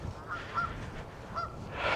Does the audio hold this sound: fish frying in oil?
no